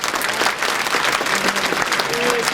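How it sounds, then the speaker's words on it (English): Children in an audience at a school talk event clap for their teachers: dense, steady applause from a crowd, filling the room at an even level throughout. "So I want all the kids to clap for the teachers today."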